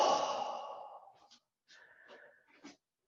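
During a qigong exercise a person exhales slowly and audibly, a long breathy sigh close to the microphone that fades, followed by a few softer, wheezy breath sounds.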